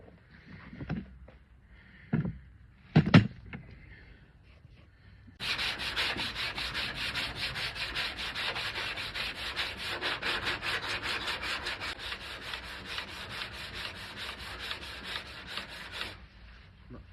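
A sanding block is rubbed by hand over filler on a wooden door, producing a long run of rapid, even back-and-forth scrapes close up, preceded by a few scattered knocks and handling sounds.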